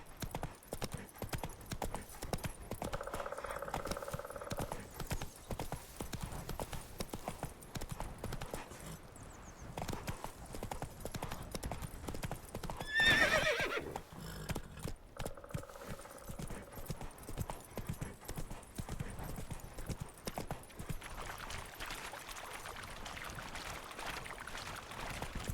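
Horse hooves clip-clop steadily through most of the scene in the video game Avowed, with a brief whinny partway through, all set against a continuous game soundscape.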